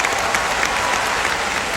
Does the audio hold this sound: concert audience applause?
yes